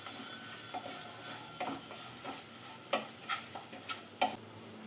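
Onions with salt and turmeric powder sauté in a pan, a close steady sizzle broken by several scraping stirs and a few sharper clinks of the spatula.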